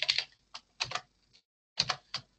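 Fingers type on a computer keyboard in close, crisp bursts of keystrokes separated by short pauses, with no voices.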